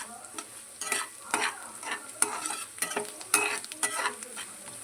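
Turmeric sizzles in hot oil in a pan for lemon rice while a spoon scrapes and stirs, a close crackling hiss broken by irregular stirring clicks.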